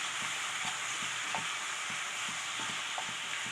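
Watermelon halwa with sugar being stirred in a pan, a steady sizzle filling the background with soft rhythmic scrapes of the spoon every half second or so, close and alone with no talk.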